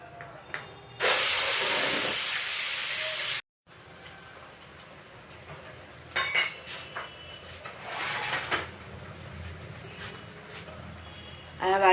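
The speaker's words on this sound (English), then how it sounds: "To it I will add the paste, the puree, the tomato and onion puree." Tomato and onion puree with green chilies and spice paste hits smoking oil in a pan for an Anglo-Indian chicken sausage curry, setting off a loud, sudden sizzling hiss that cuts out abruptly, followed by quieter spattering and utensil clinks.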